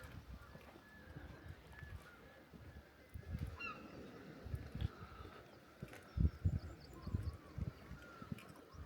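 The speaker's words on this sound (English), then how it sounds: "All you can hear is like the seagulls and wildlife." Birds call intermittently on the coast at Pennan, Scotland, with faint, scattered honking cries over a low background of wind and surf and no talking.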